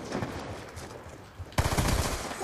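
Rapid automatic fire from an M27 assault rifle in Call of Duty: Black Ops 2, a dense sustained burst that grows louder partway through over a noisy background.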